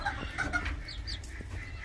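A hen clucks in a few short calls close by, over a steady low background hum, with no talk.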